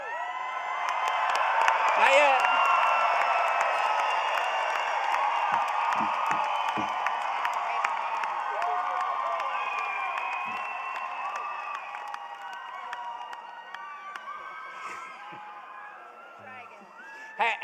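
Graduates and families at a spring College of Social Work commencement ceremony cheer and whoop loudly in a large crowd after the cap toss. The roar is sustained and slowly fades, with a few shouted voices mixed in.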